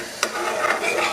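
Red chilli momo chutney is stirred in a pan as it begins to simmer, giving a soft steady bubbling sizzle with a brief scrape of the spoon.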